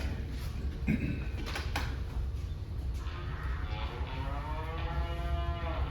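A dairy cow in a large barn moos with a long, low, drawn-out call, rising from steady barn background noise.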